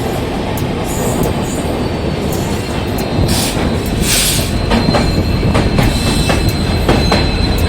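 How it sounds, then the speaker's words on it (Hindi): Passenger train slowing on its approach to Anand Vihar, heard from on board: a loud, steady rumble of wheels on rails, brief high squeals, and clickety-clack over joints throughout. "क्योंकि इसने आनंद विहार रोकना है इस ट्रेन ने, इसको स्लो होना ही पड़ेगा"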